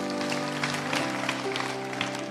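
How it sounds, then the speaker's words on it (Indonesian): Audience applause fills a church during a service, a steady dense patter of clapping over a sustained tonal hum, fairly loud and close throughout. "kasih tepuk tangan untuk Tuhan"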